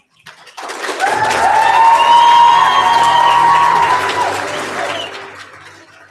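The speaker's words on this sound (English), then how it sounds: "keep those applause going for Benson" Loud audience applause with cheering fills a poetry slam competition hall, swelling quickly and holding steady for several seconds before tapering off, a crowd clapping and whooping together.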